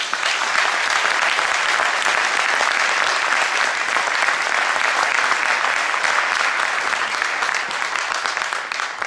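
A large audience at an honorary doctorate ceremony applauds the chef Martín Berasategui with dense, continuous clapping that stays loud and even for the whole stretch, with no talking over it.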